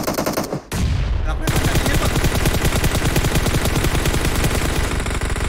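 Rapid automatic gunfire from a PUBG Mobile match rattles continuously and loudly after a brief gap near the start, a dense stream of close shots with a faint voice beneath.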